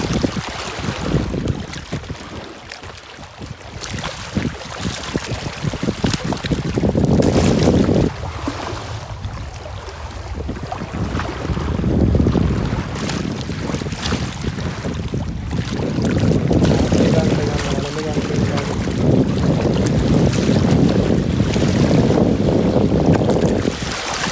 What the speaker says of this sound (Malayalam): നല്ല കാറ്റില്ലേ, അതിൻ്റെ സൗണ്ടാണ്